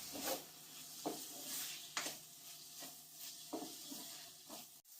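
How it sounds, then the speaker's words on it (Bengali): Cucumber sautéing in a pan with salt and turmeric, soft sizzling with several distinct scraping stirs of a spatula at a steady rhythm, fairly quiet and close. "লবণ দেওয়ার পর আমি 2-1 মিনিট শসাটাকে কষিয়ে নেব।"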